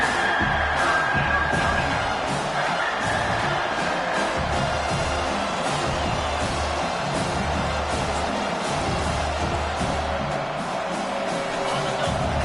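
Stadium crowd in an NCAA 25 college football game roars steadily and loudly throughout, a dense wash of cheering with rhythmic low thumping underneath.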